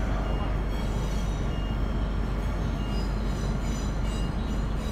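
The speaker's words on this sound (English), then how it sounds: "It's a tilt train." A tilt train rumbles steadily at close range at Roma Street Station, a constant broadband roar of wheels and motors with faint high squeals, and no clear talking.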